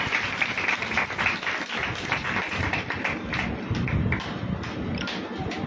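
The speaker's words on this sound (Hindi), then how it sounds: "शुभ का जोरदार ताली बजाएंगे" A crowd at the opening of a sewing training center claps at a local gathering, rough uneven applause mixed with shuffling and tapping, moderately close and continuing throughout.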